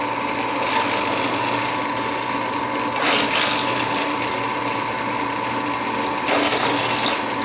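A Shopfox W1848 drill press bores through wood with a steady, close mechanical whir and hum, with two brief louder grinding bursts as the bit bites; no one speaks.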